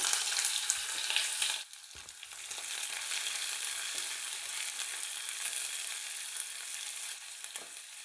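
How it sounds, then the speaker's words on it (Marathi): Thinly sliced onion fries in hot oil with cumin and mustard seeds for a masala khichdi, giving a steady close sizzle with stirring, briefly dropping and then continuing alone. "जिरं मोहरी तेलात चांगली फ्राय करून झाली की त्यात एक उभा पातळ कापलेला कांदा ॲड करायचा आहे"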